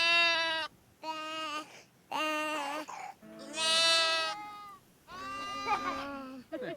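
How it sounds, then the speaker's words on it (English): Lambs on a farm bleating in five or six loud, wavering calls separated by short pauses, close and clear. "The lambs make this sound."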